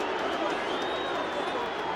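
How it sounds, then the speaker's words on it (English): Rugby crowd at Murrayfield during a Scotland versus All Blacks match in 2005, a steady roar of displeasure filling the stadium, broad and continuous with a faint whistle running through it. "Crowd don't like it"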